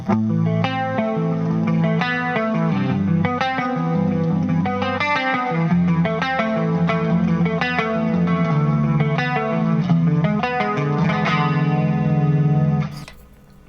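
A guitar through a BOSS CE-5 Chorus Ensemble pedal plays a steady picked pattern with a shimmering, warbling chorus effect, loud and close, ending abruptly at the close.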